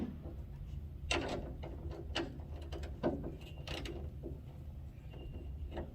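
Ratchet wrench tightening a bolt on a truck, a few short sharp clicking bursts spaced out over a steady low background hum, close by.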